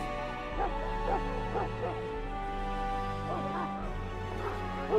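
A Mabari hound from the video game Dragon Age: Origins gives soft, intermittent woofs and whimpers over a steady, droning musical backdrop, fairly faint and somewhat distant.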